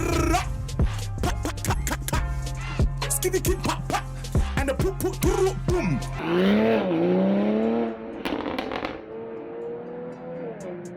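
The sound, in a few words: car exhaust pops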